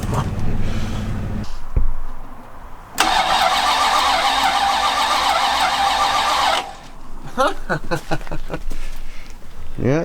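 A 1974 Dodge Challenger's engine, reported to be a 440, cranks steadily over for several seconds without firing, loud and close, between bursts of shop noise and people talking.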